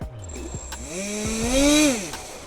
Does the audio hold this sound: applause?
no